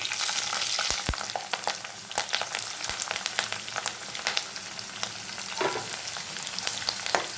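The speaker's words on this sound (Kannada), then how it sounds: "ಎಣ್ಣೆ ಕಾದಿದೆ, ಸಾಸಿವೆ ಹಾಕೋಣ. ಜೊತೆಗೆ ಈರುಳ್ಳಿ ಮತ್ತು ಕರಿಬೇವು." Mustard seeds, chopped onion and curry leaves fry in hot oil in a pan, a steady close sizzle scattered with sharp crackling pops, with no voices.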